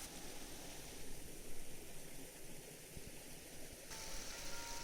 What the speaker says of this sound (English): Little water rivulets coming down by the path.